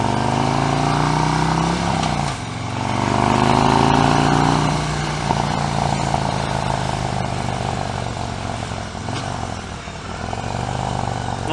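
A motorcycle ridden with a suicide shift runs steadily close by, its engine note rising and falling as the throttle is blipped, with one clear rev swell early on and a few rough dips later.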